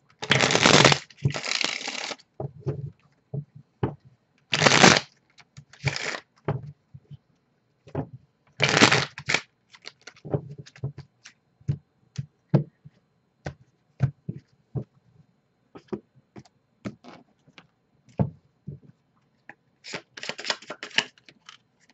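Tarot cards shuffled by hand in several bursts of riffling and bridging, followed by a run of sharp, close taps and snaps as the cards are squared and handled, all without talk.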